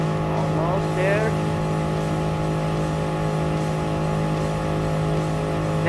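A race car engine in Gran Turismo Sport holds a steady, loud drone with layered tonal hum, accompanied by brief squeal-like sweeps early on during a one-on-one race.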